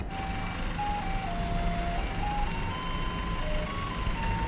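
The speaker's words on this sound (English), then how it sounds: "Gotta love that backup sound from the car." A car reversing in Korea sounds its backup alert as a steady, tuneful electronic melody that repeats at moderate volume against a constant low street rumble.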